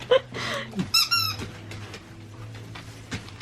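A squeaky dog toy squeaks in several sharp, high bursts while dogs play with it during a Christmas morning gift opening at home, with soft rustling between the squeaks.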